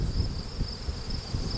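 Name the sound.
honey bees buzzing around a nuc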